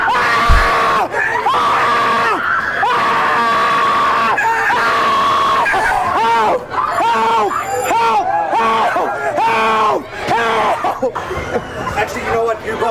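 A man screams at the top of his lungs on a merry-go-round ride, a loud sustained wailing that rises and falls in repeated bursts over about thirteen seconds, with crowd noise and other voices mixed in.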